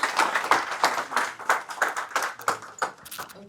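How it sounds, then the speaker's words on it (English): An audience claps at a talk on African history, a loose run of individual hand claps at uneven spacing, fairly close and fading toward the end. "So could you give them a round of applause?"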